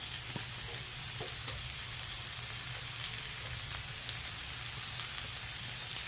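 Bottle gourd sautéing with ground meat and a little shrimp paste in a pan, giving a steady, even sizzle and crackle throughout with no talking.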